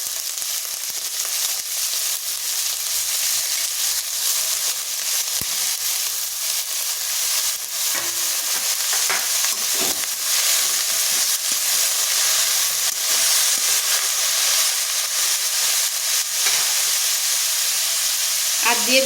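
Cabbage hits a pan of hot oil with fried ginger and sizzles loudly and continuously, with occasional scrapes and knocks of stirring close by.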